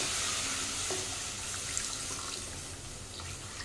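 Water pours steadily into kofta gravy after the masala has been fried down, a continuous close splashing wash with a faint sizzle beneath it.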